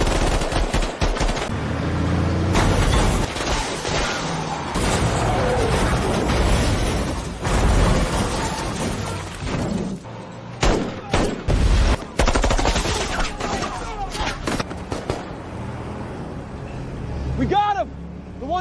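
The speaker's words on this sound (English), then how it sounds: "Hit the driver first, then blow the fuel tank on the rear vehicle." Heavy automatic gunfire and blasts from an action drama ambush on a convoy, with the fuel tank of the rear vehicle blown; loud dense bursts and booms fill most of the stretch, with a vehicle rumbling and sharp shots near the end.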